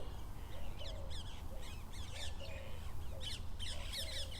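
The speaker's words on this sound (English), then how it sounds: "And the birds here celebrating for you." Several birds call repeatedly at a distance at sunrise, harsh cawing notes mixed with chirps and squawks over a quiet outdoor hiss.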